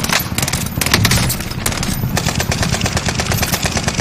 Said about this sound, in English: They're shooting from here, from that one.